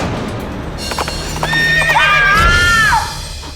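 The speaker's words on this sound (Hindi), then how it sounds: "गुंजा का घोड़ा, उसका घोड़ा कहाँ देखा था आपने उस घोड़े को?" A horse gives a loud, close whinny that rises and wavers before trailing off, with hoof clip-clops and rustling just before it.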